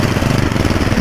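A small snowblower engine runs at a steady, loud chugging idle, a brief close-up burst with no talking over it.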